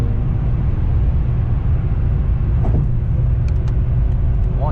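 An Acura TL with a 6-speed manual pulls hard, heard from inside as a loud, steady low engine roar with faint rattles and no speech.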